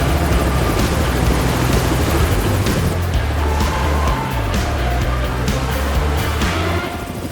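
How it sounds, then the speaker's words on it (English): A military helicopter orbiting in front of a beach: a steady, loud rotor thrum and turbine whine that holds throughout and eases slightly at the end, with no talk. "One helicopter orbits in front of the beach to take on any remaining hostile targets."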